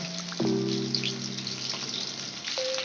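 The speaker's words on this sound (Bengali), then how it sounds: "মাছগুলো আমি আস্তে আস্তে ভেজে নেব" Tangra fish frying slowly in oil in a home kitchen, giving a steady, moderate sizzle and crackle that runs throughout with no talking.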